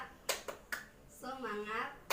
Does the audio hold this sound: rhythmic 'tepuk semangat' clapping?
yes